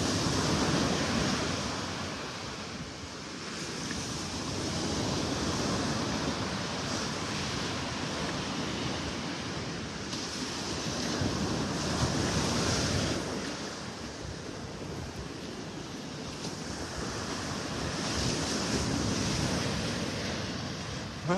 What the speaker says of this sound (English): Well, with all these waves,